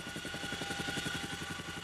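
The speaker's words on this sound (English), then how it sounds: "Helicopters drop food to villages" A helicopter flying over mountains, its rotor chopping in a fast, steady rhythm with a loud engine whine, close and continuous with no talk.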